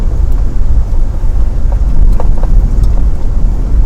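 A 2023 Toyota Sequoia TRD Pro on 18-inch BBS forged wheels cruising in four-wheel high at roughly 25–30 mph, with a steady, loud low road and engine rumble throughout and faint wind noise.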